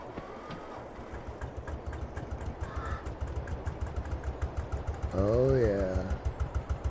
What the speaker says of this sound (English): isn't that a gorgeous tractor? Look at that, man! And listen to it when it starts.